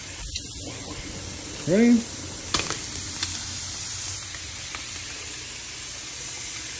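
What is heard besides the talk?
sauce poured into hot pan with stir fried shrimp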